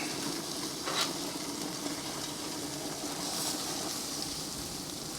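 Picanha sears on an infrared Schwank Raging Bull grill, giving a steady loud sizzle and hiss throughout with a brief sharper crackle near the start.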